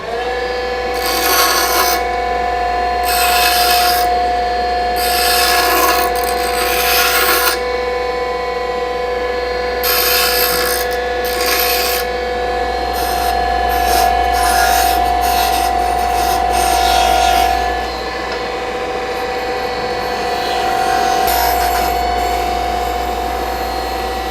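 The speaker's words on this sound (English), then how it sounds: "Let's go straight back here to the grinder. And I'm just gonna clean up this end where I cut it a little bit" A bench grinder cleans up the cut end of a forged steel bookmark in a blacksmith shop. A steady motor hum runs throughout, broken by repeated loud bursts of abrasive grinding as the steel is pressed to the wheel.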